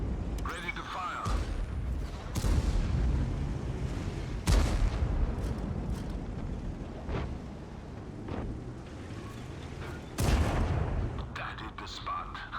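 Tank cannon shots in the video game World of Tanks, with several loud booming blasts at intervals over a continuous rumbling battle backdrop.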